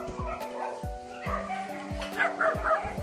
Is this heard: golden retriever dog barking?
yes